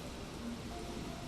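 Steady rain in Final Fantasy XIV, an even, continuous hiss of falling drops with no breaks, moderately quiet and without voices.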